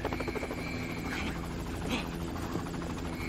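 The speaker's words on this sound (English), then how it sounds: "Called in the chopper." Helicopter in the video game GTA V Online, its steady rotor and engine drone filling the scene continuously, mixed with game effects and urgent voices talking over it.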